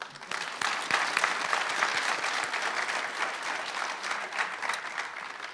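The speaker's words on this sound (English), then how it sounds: "I think we get another round of applause for Matt" Sustained audience applause after a speech at a nurse pinning ceremony, a dense wash of many clapping hands at steady loudness, rising quickly at the start and carrying on without talk.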